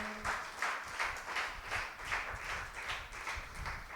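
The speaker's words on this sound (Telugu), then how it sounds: "దేవుని యొక్క సన్నిధిని అనుభవించిన వారు గట్టిగా చప్పట్లు కొడదామా?" Loud rhythmic clapping from a church congregation during Holy Mass, roughly three beats a second, evenly pulsed and sustained, with a low murmur of voices beneath the claps.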